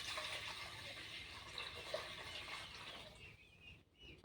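Water pouring into a pot while steamed dai bhapa pitha is being made, a soft, continuous splashing stream lasting about three seconds, then quiet with a faint trickle and a sharp knock at the end.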